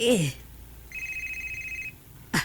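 A cellphone rings in a home scene from a drama episode, giving one sustained electronic tone. Brief voices are heard just before and after the tone.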